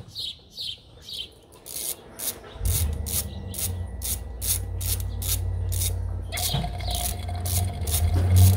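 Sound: ratchet removing bolts from Jeep water pump

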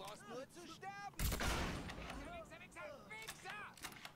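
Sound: gunfire in the video game Mafia 3

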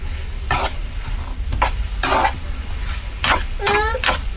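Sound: stirring beetroot stir-fry with a ladle

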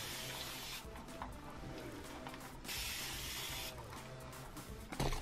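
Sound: spray bottle misting hair

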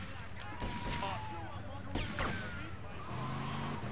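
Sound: gunfire in the video game GTA: Vice City

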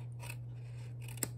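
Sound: paper snips trimming card

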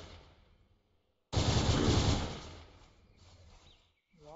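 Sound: futuristic rifle firing in video game Unturned mod

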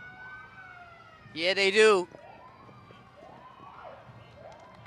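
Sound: Brockton Police antique paddy wagon siren at parade

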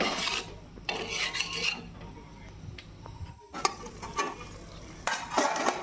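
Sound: stirring and frying spice masala in pan

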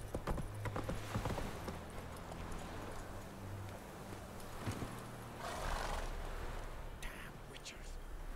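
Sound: Roach the horse galloping and neighing, from video game The Witcher 3

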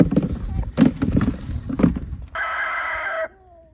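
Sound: chickens clucking and rooster crowing

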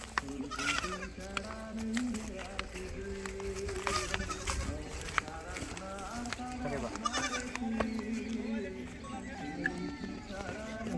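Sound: person imitating goat bleating

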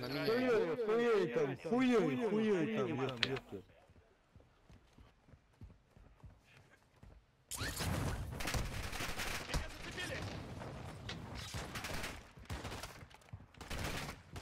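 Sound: gunfire in the video game Grand RP

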